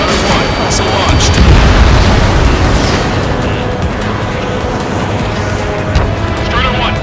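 Missile blasts and jet roar in the Ace Combat 7 flight game, a loud, continuous rumbling boom that swells and lingers with no gap, dense low-end noise throughout.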